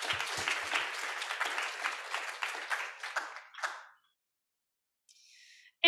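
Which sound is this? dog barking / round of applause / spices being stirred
round of applause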